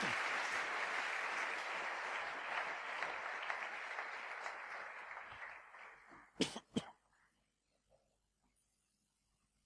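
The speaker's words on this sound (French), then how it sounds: "Acclamez les protocolaires classe." A hall audience at a men's church convention applauds the well-dressed ushers, a dense burst of clapping that gradually fades, ending with a couple of coughs and then near silence.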